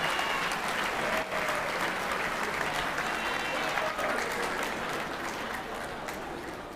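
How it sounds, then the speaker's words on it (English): Sustained applause from a crowd at a university varsity athletics awards gala, honouring award winners; dense, even clapping fills the hall and eases off slightly toward the end. "let's have another round of applause for the BSP and BSN award winners"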